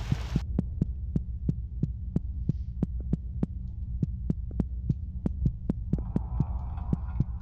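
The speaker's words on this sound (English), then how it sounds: "It sounds like maybe like radio distortion?" A steady low electronic hum like radio distortion drones through a scene in the game Psychopomp GOLD, punctuated by evenly spaced sharp pulses that throb like a heartbeat, with a faint wavering tone rising near the end.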